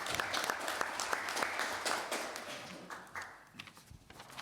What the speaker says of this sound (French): Bienvenue à elle et on peut l'applaudir.